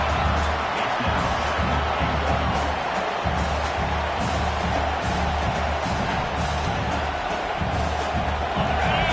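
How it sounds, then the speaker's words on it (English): A large college football stadium crowd roars continuously, a dense wall of cheering and shouting that stays loud and steady throughout. "And the crowd really making some noise now"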